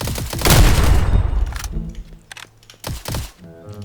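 Gunfire from a Roblox Rift Royale battle-royale game: a dense burst of loud shots opens the clip, followed by scattered sharp cracks and a second short volley near the end.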